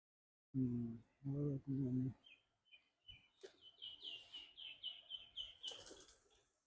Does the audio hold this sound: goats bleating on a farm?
no